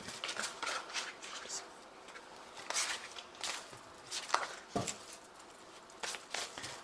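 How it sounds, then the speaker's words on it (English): A Zombie Tarot card deck is shuffled close by in a quiet room, making soft, irregular patters and light riffling bursts spread across the moment. "I have shuffled this deck."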